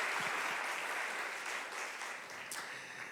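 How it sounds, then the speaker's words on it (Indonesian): A church congregation at an evening worship service claps in a full, steady wash of applause that fades slightly over a few seconds, with no voices standing out. "Kasih tepuk tangan yang paling meriah buat Tuhan kita Yesus Kristus"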